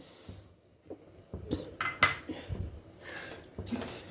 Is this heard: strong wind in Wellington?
no